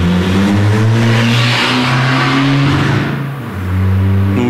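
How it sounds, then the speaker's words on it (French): Car engine noise passing close by outside, a loud continuous droning roar with shifting pitch as the vehicle goes past, alone with no voices. "Donc désolé pour le bruit de voiture."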